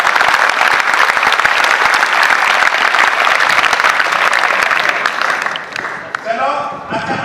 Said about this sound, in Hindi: ताली बजाओ तो भाई